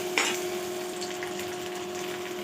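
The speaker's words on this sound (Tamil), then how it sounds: "இப்போ வெங்காயத்தை போட்டு நல்லா வதக்கிக்கலாம்." Onions sautéing in hot oil for a fish curry with small shallots, giving a steady, fairly close sizzle with a sharp hiss near the start and a constant hum underneath throughout.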